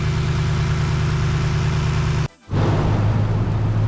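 A car engine idles steadily after a cold start with a low, even rumble, briefly dipping quiet for a moment before the idle resumes slightly rougher.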